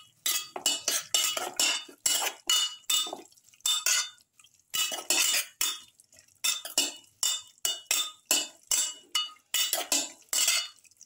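A spoon scrapes and clinks against a pan while salt is mixed into a chicken and rice mixture, in a steady run of short, rhythmic stirring strokes with brief pauses between them.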